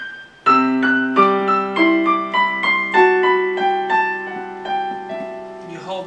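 Piano plays the next measure of Silent Night with the sustain pedal held down, so the single notes and chords ring over one another. The playing is close and clear, with a gentle fading resonance at the end.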